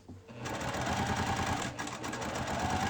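A sewing machine chain-pieces quilt pieces at a quarter-inch seam, a steady, fast, close mechanical whir running continuously after a brief quiet start.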